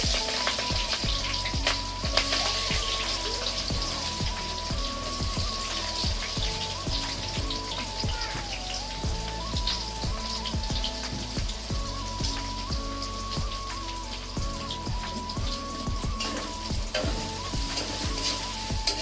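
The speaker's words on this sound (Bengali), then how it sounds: "কাঁচা লঙ্কা দিয়ে দিচ্ছি, কাঁচা লঙ্কা পরে পেঁয়াজ দিয়ে দিচ্ছি।" Green chillies and then onions fry in hot oil for a chicken curry, giving a dense, continuous crackling sizzle close by, with occasional stirring and a faint steady hum underneath, no voices.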